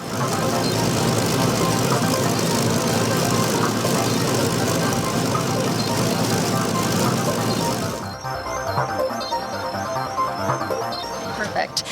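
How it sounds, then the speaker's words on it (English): The four piston engines of a Lancaster bomber at Nanton, running together, make a loud, sustained, dense roar for about eight seconds. The roar then cuts to a much quieter scene with faint background noise. "We're here tonight to witness 4 engines firing up on a Lancaster bomber."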